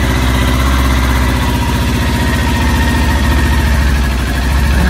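A new 2020 Kawasaki Ninja 400 ABS motorcycle engine runs at a steady idle up close, a loud, continuous low throb with an even pulsing rhythm and no voices.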